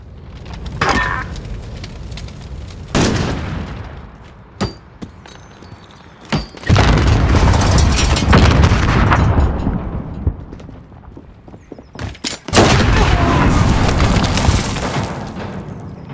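Claymore mine explosions in a Modern Warfare search-and-destroy match hit as several loud, sharp booms with scattered thuds and impacts between them, spread over a noisy stretch of gunfire-like bursts.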